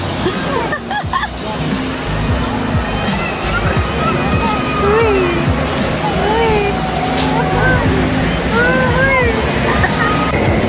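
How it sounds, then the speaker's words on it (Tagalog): Water spilling down the tumbling falls indoor waterfall in Dubai Mall makes a steady broad rush, with crowd chatter and nearby voices talking over it throughout. "Sa falls. Sa tumbling falls."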